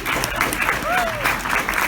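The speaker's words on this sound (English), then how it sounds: "Big round of applause right here, if you would, please." Audience applause at a hypnotist show at a co-op event, a steady crowd clapping that holds at even loudness for about two seconds while a faint voice or whistle rises briefly in the middle.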